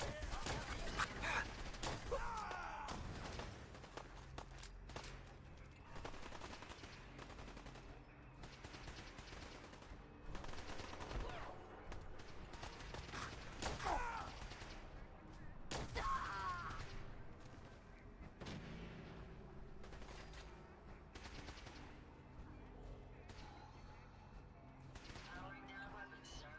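Repeated bursts of machine-gun and rifle fire in the video game Fallout 4, sharp volleys recurring over a steady low game backdrop, with voices calling out between shots.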